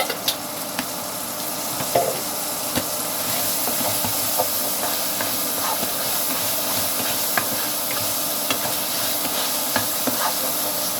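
Cooking oil sizzles and hisses steadily in a pan during sautéing of garlic, a loud continuous frying noise with occasional small pops and clicks of a utensil throughout.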